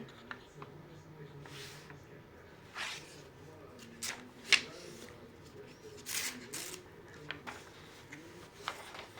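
Sheets of patterned vellum paper, printed with arabesques and flowers, rustle and crinkle in short bursts, with a few sharper crackles, fairly close and under occasional quiet handling noise.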